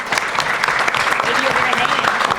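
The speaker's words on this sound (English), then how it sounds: "Let's give them another round of applause." Audience at a forum on the 2018 midterm elections applauding steadily, a dense, loud round of clapping throughout.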